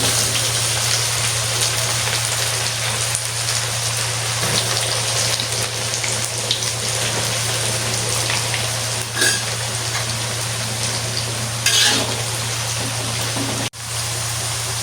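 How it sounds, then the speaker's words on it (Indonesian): Tempeh fries steadily in hot oil in a wok, a dense, even sizzle with a low hum beneath and no voices, holding loud and constant throughout. "Goreng tempe hingga kering."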